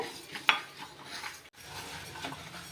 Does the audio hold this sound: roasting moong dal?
yes